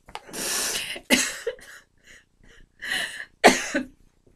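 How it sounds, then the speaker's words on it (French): Several harsh coughs in bursts after swallowing the wrong way, close and loud, with short breathy pauses and small throat sounds between them. "Je tousse plus normalement, mais là, c'est le fait de... J'avale de travers."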